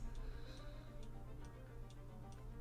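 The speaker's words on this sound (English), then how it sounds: "What is the ticking sound?" Steady clock ticking in the storeroom of the video game Sherlock Holmes: The Silver Earring, a faint regular tick-tock over a low, constant background hum, with no talk.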